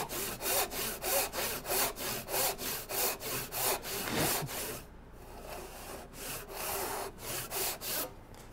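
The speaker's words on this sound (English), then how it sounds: "So I'm naturally just sawing as my body likes to" Close, rhythmic hand saw cutting a wooden tenon, steady back-and-forth rasping strokes, a brief pause midway, then several more strokes.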